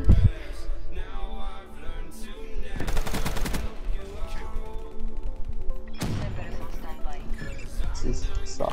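Gunfire in a multiplayer team deathmatch shooter game, with short bursts and a dense rapid volley partway through, mixed with game effects while a player talks over much of it.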